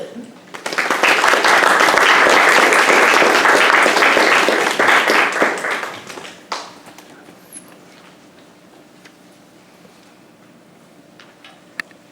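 Audience applause welcoming a speaker at a Pax Christi evening gathering at La Salette Shrine: loud, dense clapping from a crowd that swells quickly, holds for several seconds, then fades into scattered claps and quiet room noise.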